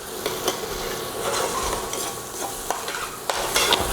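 Garlic and red chili flakes cooking in a pan for southern collard greens, a loud, steady sizzle with repeated spoon scrapes and stirring strokes throughout, close up with no talking.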